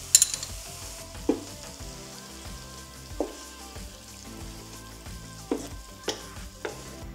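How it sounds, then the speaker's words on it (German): Vegetables, mushrooms and chicken sizzle in a hot pan, a steady crackling fry broken by several sharp scraping knocks from stirring, close and without talk. "Wir braten alles kurz an, weil wir möchten das Gemüse knackig haben"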